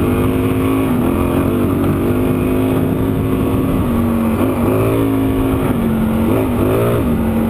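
A dual sport motorcycle rides through a sandy wash in Arizona, its engine droning loud and close with the pitch rising and dipping as the throttle is worked.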